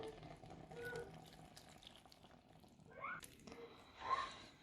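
Water pours and trickles into a pot of black cabbage (kale) rolls, a faint, soft splashing with a few brighter bursts near the end, heard alone in a quiet kitchen.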